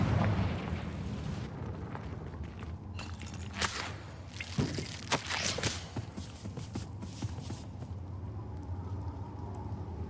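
In a Harry Potter video game, a Confringo fire spell bursts into a loud, sustained roar of explosive blasts with crackling impacts and rumbling debris, close and dense throughout.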